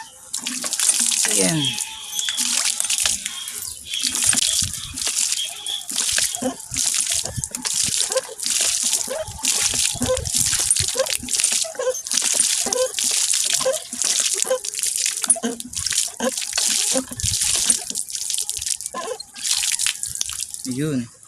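Live fish food is rinsed under water from a hand-operated pump, with rhythmic gushes and splashing that come in repeated pulses with each stroke, close and loud, while someone talks intermittently.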